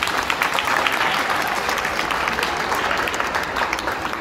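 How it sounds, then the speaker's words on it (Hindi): Steady applause from an audience at a Mother's Day school celebration, a dense wash of many hands clapping that holds evenly for about four seconds without pause. "जोरदार तालियां एमडी सर के लिए।"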